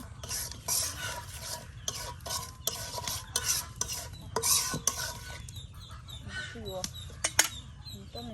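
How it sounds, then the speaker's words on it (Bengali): In a village kitchen, spices with turmeric and salt are fried and stirred, with repeated rough scraping strokes against the pot over a faint sizzle. Birds call now and then in the background. "মশলাটাকে ভালো করে ভেজে নেওয়ার পরই কিন্তু আপনার এই যে দেখুন লবণ দিয়ে দেওয়া হলো"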